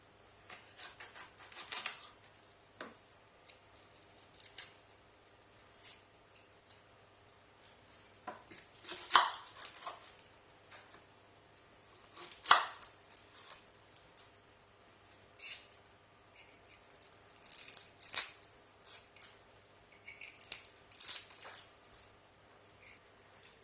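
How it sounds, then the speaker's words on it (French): Onions are peeled and washed for a potato salad, with scattered crisp taps, scrapes and rustles of papery skin, brief splashy bursts and clatters spread irregularly across a quiet kitchen. "Pendant que ça cuit, je vais éplucher les oignons et les laver."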